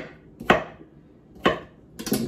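A knife chops food on a cutting board, three sharp, distinct strikes about a second apart, close and clear against a quiet background.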